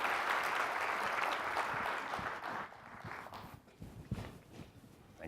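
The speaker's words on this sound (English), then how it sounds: "So let's have a big round of applause for these folks from Jack in the Box" A conference audience applauds, with dense clapping loud and steady at first, then thinning into scattered claps that fade out over a few seconds.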